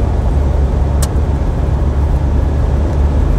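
A Mitsubishi Montero Sport engine runs at high RPM on the Tarlac-Pangasinan-La Union Expressway. A loud, steady low roar of engine and road noise from inside the vehicle continues throughout, with one brief click near the start.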